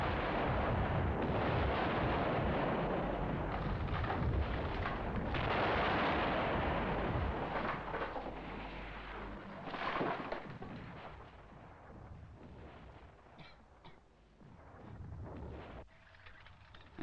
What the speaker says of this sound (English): an enemy attack on a fixed position will be preceded by heavy concentrations of artillery fire